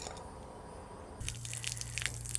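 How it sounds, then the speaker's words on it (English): Water begins splashing and trickling out of an electric hot water heater tank's drain tap steadily partway through, close by, with a continuous gurgling flow after a quieter start. "There you can see the water running out."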